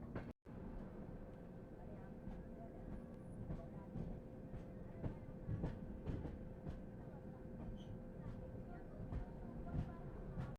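Aboard the 22412 Arunachal Express passenger train, a steady, loud rumble of wheels on rails fills the whole stretch, with regular clickety-clack beats from the rail joints.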